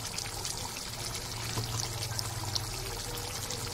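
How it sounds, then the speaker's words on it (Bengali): Ground spice mix of cardamom, cinnamon, clove, cumin, coriander and black pepper poured into a hot pan, a steady soft hiss and patter that holds evenly throughout with no talking. "এবার এখানে আমি মশলা গুঁড়ো করে রেখেছিলাম দিয়ে দেবো"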